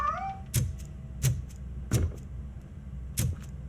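A cat meows several times in RoboCop: Rogue City, with four sharp bursts spaced about two-thirds of a second apart, close and fairly loud with no talk over it.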